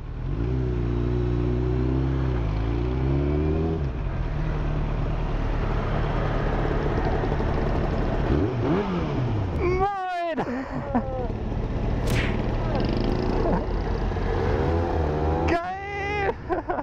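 Motorcycles pass on a road, the engine drone near and steady at first, then a quick bike zipping past with a rising-falling whine, and later another sharp pass, while people talk and laugh over it.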